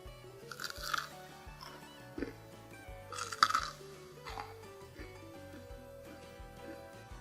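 Crispy fried tempeh chips bitten and chewed up close, with about four or five sharp crunches spread out between quieter chewing, over faint steady background music.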